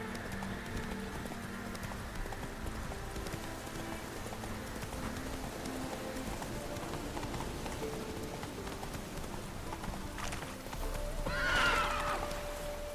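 The horse Roach in The Witcher 3 clip-clops steadily through rain, then gives one loud, close whinny near the end. Nobody speaks.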